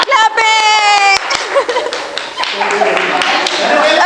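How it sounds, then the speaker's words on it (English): Clapping from a team-building group after a prize goes to the winning team, a burst of hand claps mixed with voices, starting after a brief vocal sound and continuing fairly loud throughout. "Clapping."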